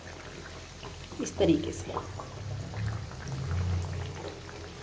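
Mathri fry in hot oil while being turned, a soft bubbling and sizzling with a few sharper splashes, heard faintly beneath a voice.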